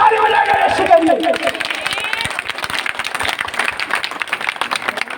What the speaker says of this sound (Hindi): प्रभु के लिए ताली बजाएंगे एक बार जोर से